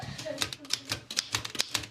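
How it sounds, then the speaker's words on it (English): A manual typewriter in an old-fashioned house being struck key by key, a quick irregular run of crisp mechanical clacks close by, with voices talking over it. "This is my new typewriter."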